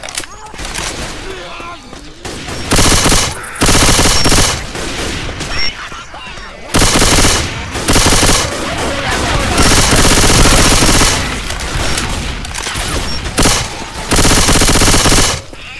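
Rapid automatic gunfire from Left 4 Dead 2 zombie-survival gameplay, loud sustained bursts of machine-gun fire with brief pauses between volleys, mixed with other game noise.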